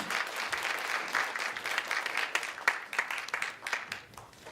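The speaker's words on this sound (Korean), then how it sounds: "힘찬 박수로 맞아주시면 감사하겠습니다." An audience at a public-hospital evaluation forum applauds to welcome a party leader to the podium, a dense, sustained round of clapping from a full room lasting several seconds without pause.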